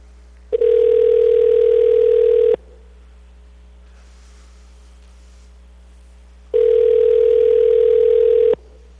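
A telephone call rings through to a caller during a public-testimony call-in at an Anchorage Assembly meeting: two loud, steady ringback tones about two seconds long, separated by a four-second pause, with no talk.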